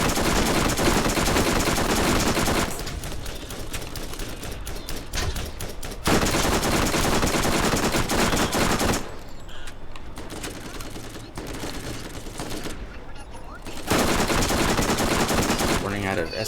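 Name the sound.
submachine gun fire in the video game Borderlands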